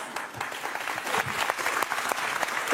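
A man in a French TV game show studio audience applauds: a quick, continuous run of crisp handclaps, moderately loud and close, that grows slightly stronger toward the end.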